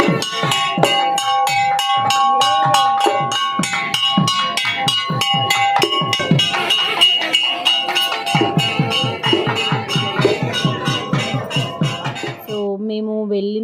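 Temple bells ring at Tirumala in a rapid, loud, rhythmic clanging series, metallic tones repeating steadily for many seconds before a final ringing note hangs on alone.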